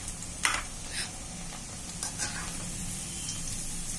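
Poha (flattened rice) fries in hot oil for kara boondi, giving a soft, continuous sizzle with a few brief stirring clinks, fairly quiet and close.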